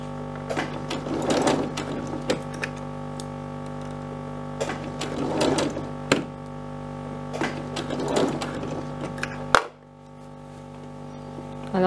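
A sewing machine stitches the white fabric of a sleeve in several short runs of rapid, rhythmic mechanical chatter, each burst a few seconds long, close and clear, then stops abruptly.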